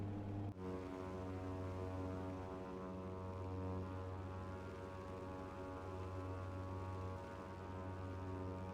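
Britten-Norman BN2 Islander twin piston propeller engines at full power in the flight simulator MSFS2020, a steady droning hum with strong low harmonics, holding constant and loud after a brief shift at the start.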